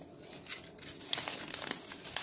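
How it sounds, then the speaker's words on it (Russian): Wrapping on a gift package crinkles and tears as it is opened, with close, crisp rustling that grows busier and louder partway through. "Начнем с этого подарка. Открываем."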